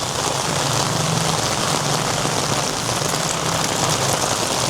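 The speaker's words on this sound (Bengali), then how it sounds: "প্রচুর পরিমাণে বৃষ্টি হচ্ছে এখানে।" Heavy rain pours down on a rainy day in Thailand, a loud, dense, steady hiss of drops hitting surfaces that holds unbroken throughout, with no speech.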